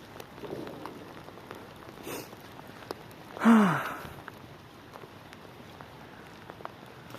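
Outdoor rain falls in a soft, steady patter throughout, with a louder breathy burst near the middle and faint scattered drops.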